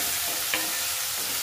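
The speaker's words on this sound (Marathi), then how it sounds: "कांदा फ्राय करून घ्यायचा आहे" Finely chopped onion fries in a pan for a dry cabbage dish, hissing in a steady, fairly loud sizzle with a brief scrape of stirring partway through and no talking.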